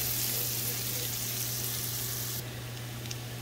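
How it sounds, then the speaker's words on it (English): Shallots sautéing in olive oil and butter in a pan, giving a steady, close, even sizzle that goes on throughout. "You're gonna add in your shallots, and then you're just gonna stir for about 60 seconds."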